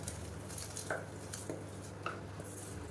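Soaked rice goes into a pot of mushroom biryani masala, giving a few soft scattered clinks and scrapes of a utensil against the pot over a steady low hum, quiet and close.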